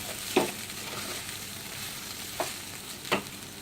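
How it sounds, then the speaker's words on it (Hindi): Poha mixed with peanuts is stir-fried in a pan, a soft continuous sizzle broken by a few brief scraping stirs of the spoon against the pan, with no talking. "अब हम इसे अच्छे से भून लेते हैं। पोहा अच्छे से भून चुका है।"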